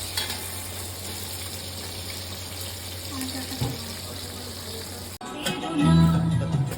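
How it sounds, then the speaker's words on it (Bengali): Okra frying in oil gives a steady, close sizzle, broken by a sudden clatter near the end followed by louder bubbling and kitchen noise. "ভেন্ডি ভাজা হচ্ছে।"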